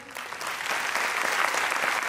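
Audience applause at a prize-giving for a competitive exam contest, steady crowd clapping that swells slightly and holds at moderate volume.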